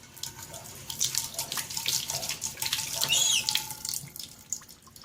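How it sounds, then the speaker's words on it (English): Water runs from a tap into a cast iron Dutch oven, a close, splashy gushing rinse with uneven bursts and drips over several seconds. "Just a little rinse there."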